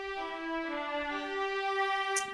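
A sustained piano chord rings out from a remake of a song's chorus, a steady even tone with rich overtones holding throughout, heard alone.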